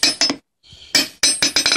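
A steel hammer strikes an anvil face in a workshop, making sharp metallic clinks in quick bouncing clusters as the hammer rebounds, with a short gap between bursts.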